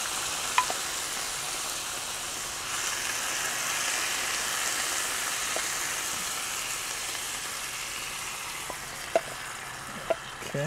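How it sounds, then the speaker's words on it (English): Mushrooms and marinade sauce sizzle steadily on a hot Camp Chef FTG600 griddle, a dense close hiss with a few faint clicks and taps of a utensil. "Now I'm going to go ahead and add my mushrooms and some of this sauce."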